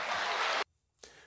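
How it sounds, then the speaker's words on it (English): Loud applause from a live presidential debate audience fills the first half-second, then cuts abruptly to near silence before a fainter burst of crowd noise returns. "that got thunderous applause there"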